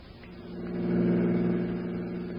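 A radio-drama car effect: a steady mid-pitched engine rumble swells as the vehicle drives, then gently settles as it pulls up, heard alone and somewhat muffled.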